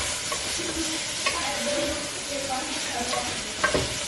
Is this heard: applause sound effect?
no